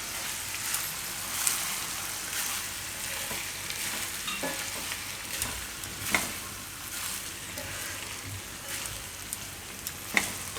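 Cooked rice fries and is stirred in a hot sizzler pan, giving a continuous loud hiss with scattered scraping clinks as a spoon mixes it. The sound is close and steady, with no talking.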